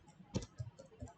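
Someone types on a computer keyboard, producing a handful of soft, close key clicks at an irregular pace, with one stronger double tap near the start.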